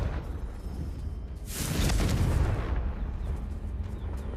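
A Confringo blasting spell from a video game explodes in one loud broadband burst, rising from a steady background rumble and trailing off into low rumbling.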